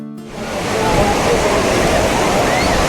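Steady, loud rushing of surf fills the scene at sea off Digha, heard during a boat ride, a continuous wash of breaking waves with no distinct pauses.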